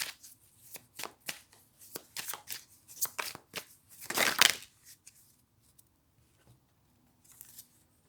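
Dixit expansion cards being shuffled by hand, a run of quick crisp riffling flicks building to a dense fluttering burst, close and clear, then a few faint card movements and quiet pauses.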